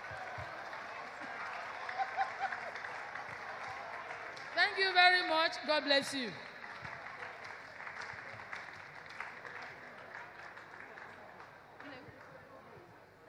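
Audience applause at a clergy workshop in Lagos, a steady wash of clapping that runs through the whole stretch and briefly sits under a voice offering thanks.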